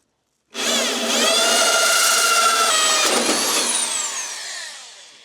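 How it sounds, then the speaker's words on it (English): A 110-volt power drill with a hole saw whines loudly and steadily, its pitch shifting as it bites through material cutting a hole, then winds down and fades out. "That is a man who knows how to drill a hole"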